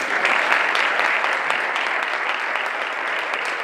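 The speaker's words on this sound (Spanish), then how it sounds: "Un fuerte aplauso." Steady, fairly loud applause from an audience at a foundation's board meeting event for people with disabilities, dense clapping continuing evenly throughout with no clear speech on top.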